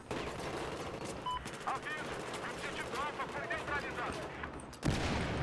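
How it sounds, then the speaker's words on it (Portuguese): Desert Eagle pistol shots ring out in a shooter video game as a player jumps and fires down on an opponent. Sharp reports come in quick bursts over game ambience, with a voice talking throughout. "o tiro de fé é quando você pula e dá os tiros no cara lá embaixo"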